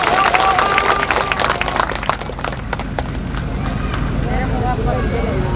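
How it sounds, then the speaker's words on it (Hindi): Crowd applause at an outdoor political rally in Sasaram, Bihar, a broad steady wash of clapping and crowd noise that stays loud throughout, with scattered voices and shouts mixed in. "ताली बजाओ"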